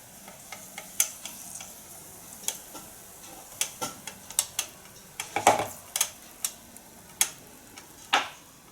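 Waffle batter with yogurt going into a waffle iron, heard as a run of sharp ticks and taps of a spoon against the iron, close and fairly loud, with a soft hiss underneath; no talk.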